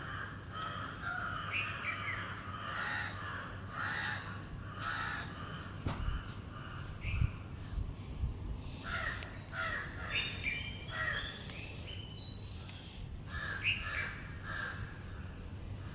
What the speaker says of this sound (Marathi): आणि सकाळी सकाळी असा छान पक्ष्यांचा किलबिलाट कानावर पडला.